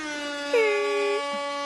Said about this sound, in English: I love that air horn Niccole, sound.